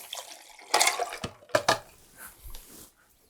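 Liquid splashes and trickles over ice into a cocktail shaker in short bursts, with a few clinks and wet pours close by.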